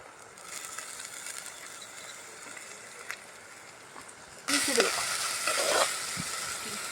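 Sliced onions drop into a hot pan for pepper chicken curry. A quiet, faint sizzle gives way to a sudden loud burst of frying and crackling as the onions go in, and it keeps hissing steadily.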